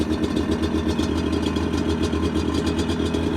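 A motorcycle engine idles on choke, a steady, loud low rumble with an even rapid pulse that runs unbroken from start to finish, close to the listener.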